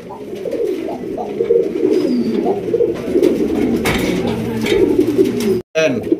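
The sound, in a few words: pigeons cooing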